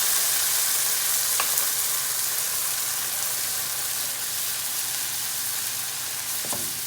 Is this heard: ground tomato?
yes